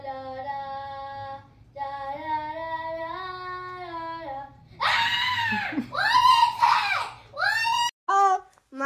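A cat yowls in long, drawn-out, wavering cries that give way to harsher, screaming yowls and shorter bursts, loud and close throughout.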